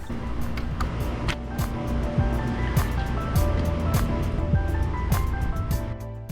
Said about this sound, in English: Rinse your gloves until all the soap is out